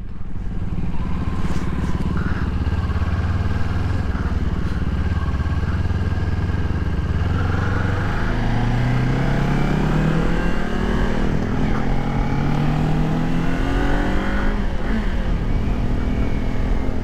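Kawasaki Ninja 400 motorcycle being ridden, its engine droning steadily throughout, rising in pitch as it accelerates through the gears, with steady wind noise over the ride.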